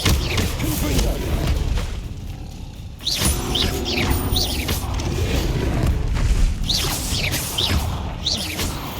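Confringo spell blasts in the game Hogwarts Legacy, loud booming explosions with whooshing swishes and crashing debris, repeated over a dense, continuous rumble of game effects.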